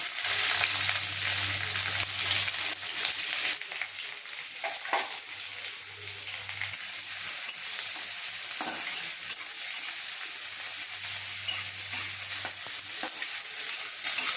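Crushed garlic, onion and chili sizzle steadily in a hot pan, with a continuous, loud frying hiss and occasional scraping stirs over the whole stretch.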